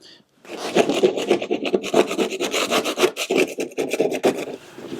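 Caked grass being scraped from the underside of a Deere X530 mower deck, a loud, close, steady rasping with rapid repeated strokes and no talk.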